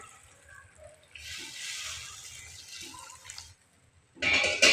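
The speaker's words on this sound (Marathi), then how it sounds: "आता याच्यात उकळीचं पाणी घालून घेणार आहे मी" Boiling water pours into a pan of fish curry in a steady splashing stream for a couple of seconds, stops briefly, then a louder, harsher gush or sizzle follows at the end.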